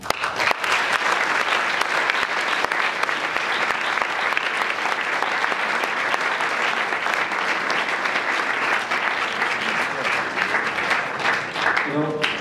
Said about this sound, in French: je crois que Schmitz mérite vos applaudissements